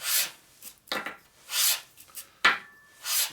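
A part for a 1946 Harley-Davidson knucklehead motor is sanded by hand in a rough X pattern, giving five or six separate rasping strokes, each a short gritty swish with brief pauses between, close and clear.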